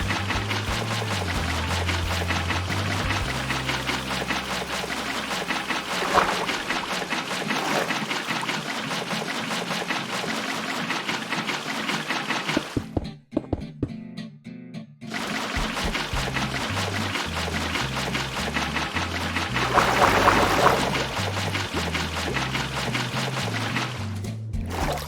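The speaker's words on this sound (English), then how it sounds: "we are going to fill our giant central tank in using water" Water pours steadily into a giant aquarium tank in a block-building video game, a continuous rushing, trickling flow that breaks off briefly partway through and then resumes, up close with no talk.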